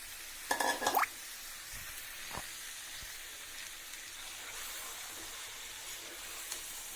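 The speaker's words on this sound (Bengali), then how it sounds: "এবার আমি মশলা মেখে রাখা লইট্টা মাছগুলো দিয়ে দিচ্ছি।" Spiced loitta fish (Bombay duck) laid into a pan of oil and tomatoes gives a faint, steady frying sizzle, with a brief clatter near the start.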